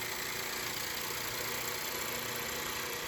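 A demonstration steam engine with a firebox runs in a physics lecture room, giving a steady, even hiss and whir with no breaks, moderately loud and alone.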